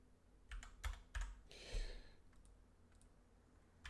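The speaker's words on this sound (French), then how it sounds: "c'est bien parce que je sais pas écrire sur ce clavier là." Keystrokes clatter on a computer keyboard in short uneven bursts, close and fairly quiet, with no one talking.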